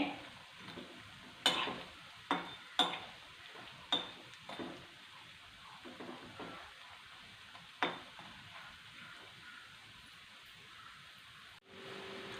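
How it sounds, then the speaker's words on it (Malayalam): Jackfruit seed snacks fry in a small amount of oil, giving a quiet, steady sizzle broken by several sharp stirring clinks and scrapes. "ഞാൻ കുറച്ച് എണ്ണയിലാണ് വറക്കുന്നത്"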